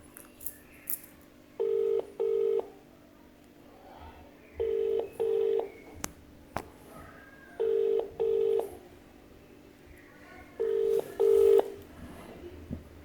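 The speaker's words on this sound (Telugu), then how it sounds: "సో ఇప్పుడు దానీర్ గారికి ఫోన్ చేస్తున్నారు" A phone call ringing out: four pairs of ringback tones repeat at an even pace, each pair a double buzz, with faint background clatter between rings.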